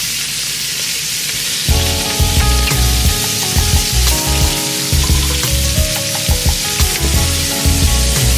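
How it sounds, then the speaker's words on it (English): Celery, onions and carrots sizzling in a hot pan as they braise down, a loud, steady frying hiss with clattering stirs and scrapes of a utensil, close and continuous. "Celery, onions, and carrots that we're going to braise down just a bit."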